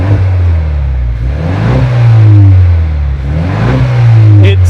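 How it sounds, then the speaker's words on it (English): A Ford Mustang EcoBoost S650 fitted with an MBRP exhaust revs in short, gentle blips, its loud, deep exhaust note rising and falling twice over a steady idle, heard up close. "Give it to some baby revs"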